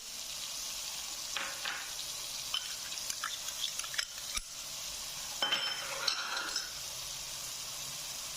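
Ground masala and ginger garlic paste fry in a pan for chicken korma, a faint continuous sizzle with scattered scrapes and light clicks of stirring, quiet and close, no voices.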